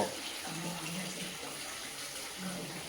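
Heavy monsoon rain pours down in a dense, steady roar, loud and close throughout, with a faint voice briefly underneath.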